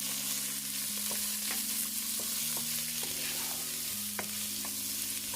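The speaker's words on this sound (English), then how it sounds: "I'm gonna fry up the onions and the scallion" Onions and scallion fry in oil in a pan, a steady close sizzle with occasional stirring clicks and a low tonal hum underneath.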